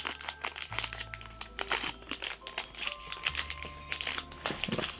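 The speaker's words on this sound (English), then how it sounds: "Just rip this open." Foil wrapper of a Pokémon Temporal Forces booster pack being torn and crinkled open up close: continuous crackling and rustling for several seconds with no talking.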